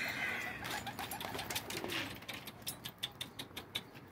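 Posta (racing) pigeon near a coop, soft cooing and wing flapping amid rustling outdoor noise, with a series of sharp flaps toward the end.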